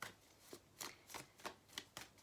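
Oracle cards handled in a series of six or seven soft, crisp shuffling bursts at an even pace, quiet and close, with no talking.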